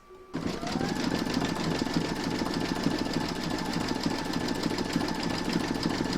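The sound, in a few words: embroidery machine stitching a foam keyring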